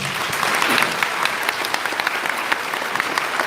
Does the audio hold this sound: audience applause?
yes